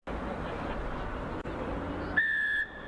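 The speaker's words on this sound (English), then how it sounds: "Mr. Hikabaridze blown his whistle, and the Rugby Europe U18 Championship is just starting" A referee blows a single sustained whistle blast at kickoff of a Rugby Europe U18 Championship match between Belgium and the Netherlands, ringing out clearly over steady crowd and stadium noise for about half a second.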